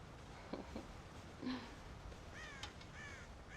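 Crows caw in Red Dead Redemption, a few harsh scattered calls at middle distance, fairly faint, with a couple of sharper caws near the end over a quiet outdoor hiss.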